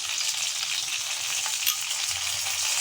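Bay leaf and cumin seeds fry in hot oil in a pan, a close, steady sizzle that crackles evenly throughout with no voices.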